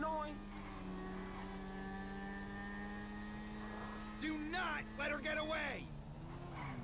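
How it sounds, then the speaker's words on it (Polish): A motorcycle in Grand Theft Auto 5 drones along with a steady, sustained engine tone and a slightly slow feel, while people talk over it and the pitch dips near the end. "Ten motor, nie, nie da się z niego wycisnąć pełnej pary, on no, trochę wolny jest."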